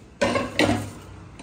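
A metal pot set down onto a heated iron griddle in a home kitchen while cooking paneer dum biryani, giving two short clattering contacts about half a second apart, close and fairly loud.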